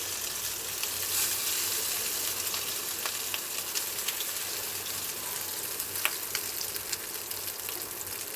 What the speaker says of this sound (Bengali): মাছের ডিমটা তেলের মধ্যে দিয়ে দিলাম